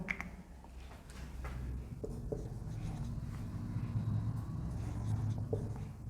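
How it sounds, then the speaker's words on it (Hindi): Pen writing by hand on paper or a board during a chemistry lesson on solids and conductivity, a steady scratchy stroking that runs through the whole stretch at low, close level with no speech. "तो चलिए लिखते हैं इसको।"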